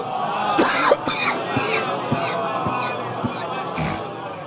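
A congregation at a Shia majlis for the martyrdom of Fatima Zahra recites salawat together, a dense murmur of many voices chanting in unison with a few loud bursts over a steady crowd rumble.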